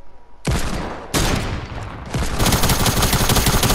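Submachine gun fire in a video game, loud rapid bursts starting abruptly after a brief quiet moment, then a sustained stream of fast shots near and continuous, with no talking.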